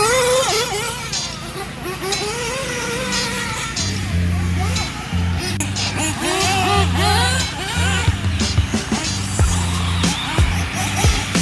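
Nitro RC buggies, including an Xray XB8 and an XT8, racing around a dirt track with jumps: high, whining engines rise and fall as they accelerate and pass close by, with voices talking underneath.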